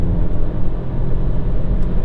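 A Volkswagen Taigo engine pulls hard at full throttle while accelerating up a slight incline with two people aboard, a loud, steady low drone heard from inside the car.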